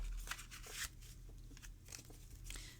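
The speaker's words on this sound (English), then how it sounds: "They're long and lean cards, but they shuffle nicely." Long, slender Zodiac tarot cards are shuffled by hand, giving soft, quick papery riffles and slides, close up and quiet.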